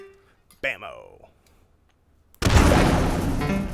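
Grenade explosion in the VR shooter H3VR: a loud sudden boom that rolls into a long rumbling decay, preceded by a brief voice exclamation.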